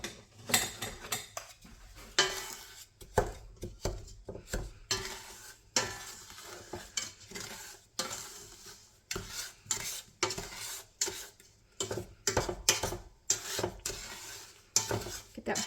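A utensil scrapes and clinks as butter and sugar are stirred in a pot on a stove over medium heat. Irregular bursts of scraping and knocking come with a faint sizzle underneath.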